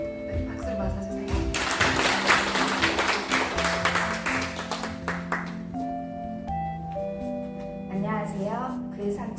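An audience at a 2025 book launch in Danyang claps for an author, a burst of applause lasting a few seconds over soft tonal music, followed by speech.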